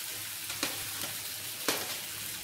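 Fried pointed gourd (potol) stirred in a pan with fried potatoes for a Bengali potol chingri dish, giving a quiet, steady sizzle with two soft scraping stirs. No talking is heard.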